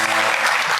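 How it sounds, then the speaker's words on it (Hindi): Short, loud burst of studio audience applause on a Pakistani TV talk show, a steady dense clatter of clapping lasting about a second. "तालियां यार"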